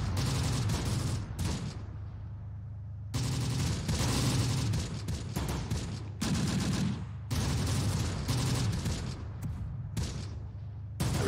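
Gunfire in the war game Close Combat: The Bloody First, loud sustained bursts of rifle and machine-gun fire in dense fusillades, broken by a few brief lulls, with no talking.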